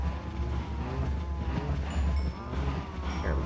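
Several cows in Minecraft moo in overlapping, drawn-out low calls over a busy background hum, with a few brief higher game sounds near the end.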